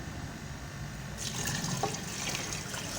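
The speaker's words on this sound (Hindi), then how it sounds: "अब इसमें दूध डालेंगे।" Milk being poured into a pot of carrot and rice kheer, a steady soft liquid rush that starts abruptly and continues evenly, close and moderately quiet.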